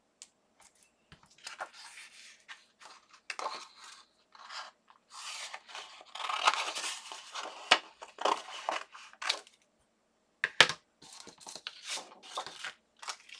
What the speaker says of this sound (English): I'm just going to do it with my scissors here.